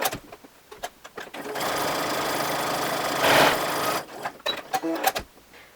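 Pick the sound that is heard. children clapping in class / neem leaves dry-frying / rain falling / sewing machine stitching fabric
sewing machine stitching fabric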